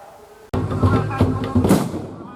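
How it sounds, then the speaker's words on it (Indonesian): A bamboo cannon (lodong) fired by a riverside in Sumedang, West Java, lets out a sudden hollow boom followed by rumbling thumps and crowd noise, with people's voices mixed in. "warga ngabuburit dengan cara memainkan meriam bambu atau lodong secara bergilir maupun bersama-sama."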